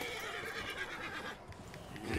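An Arabian horse neighs in the video game Red Dead Redemption 2. The whinny is fairly faint and sits inside a dense mix of game ambience.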